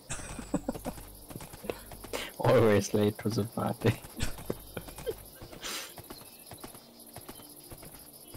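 Horse hooves clip-clop in the Minecraft Minecolonies game, a run of quick hoofbeats with a brief whinny under people talking, the steps fading toward the end.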